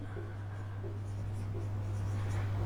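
Chalk or marker scratches faintly on a board in a classroom lesson about circles, soft repeated strokes over a steady low hum.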